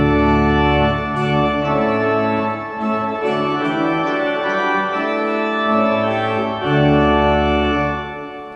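Father Willis pipe organ sounding a full diapason chorus with open diapasons, 4-foot, 2-foot and mixture drawn, dense sustained harmonic chords shifting through a loud, bright, reverberant passage with no voices.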